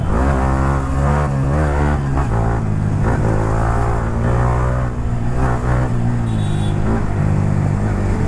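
A Yamaha R15M motorcycle engine roars loud and close as it filters through heavy evening traffic, the pitch climbing and falling with repeated revs and gear changes, joined by the rush of nearby vehicles.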